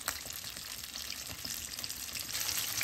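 Homemade KFC-style breaded chicken frying in hot oil, a steady close crackling sizzle with no voices.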